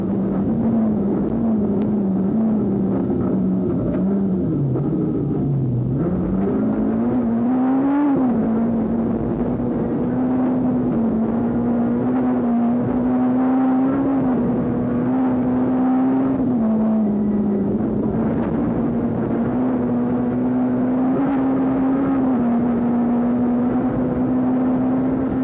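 Inside a rally car flat out on a stage of the 2003 Rally of South Africa, a loud engine drones at high revs, pitch dipping and climbing through gear changes, with road and wind noise throughout.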